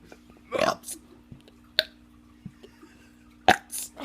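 A teenager lets out several short, loud burps spaced a second or so apart, with quiet gaps and faint background hum between them.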